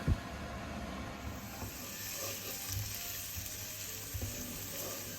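Onion and a halved garlic clove sizzling in olive oil in a pan over medium heat, a steady soft crackle with faint clicks and low thumps, no voices.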